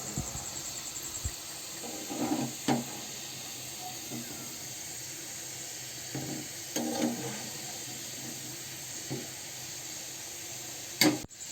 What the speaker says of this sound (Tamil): இது ப்ரௌன் கோல்டு கலரில் ஆகிற வரையும் நல்லாவே பொரிச்சுக்கோங்க.